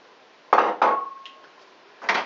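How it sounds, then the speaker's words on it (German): Nuts tipped into a pan for caramelising with sugar, landing as two quick rattling clatters followed by a brief ringing tone, a faint knock, and then another rattling pour near the end. "Und jetzt können wir dann einfach die Nüsse in die Pfanne geben."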